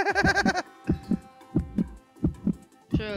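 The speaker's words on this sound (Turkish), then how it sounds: "Kalp atışım yavaşladı arkadaşlar" In the Roblox game Survive the Killer, a slow heartbeat thumps in paired double beats, about four lub-dub pairs spaced evenly, loud and close, with brief game sound effects at the start and end.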